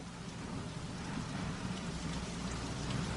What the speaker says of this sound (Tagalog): Grabe nga ulan ba?